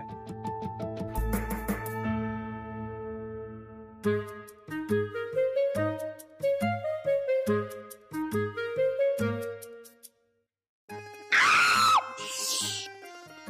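Music plays throughout a Marathi TV serial scene, then a sudden shrill scream breaks out near the end, loud and brief.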